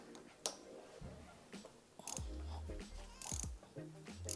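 Wrench loosening a fork clamp bolt on the top triple clamp of a Triumph Street Twin: irregular metallic clicks and ratcheting clanks with short scraping knocks, close and moderately loud, no talking.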